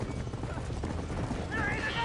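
Horse hooves clopping in the video game Red Dead Redemption during a barn fire scene, a steady rapid clip-clop under continuous background noise and faint voices.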